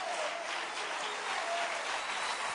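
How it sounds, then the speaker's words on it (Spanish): Church congregation applauding during a sermon, a steady wash of clapping from a crowd at moderate distance. "denle un aplauso al Rey bendito"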